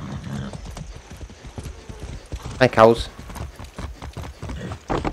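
Galloping horse hooves in Far Cry 6 make a quick run of clip-clops, with a whinny midway, while someone talks over the game sounds.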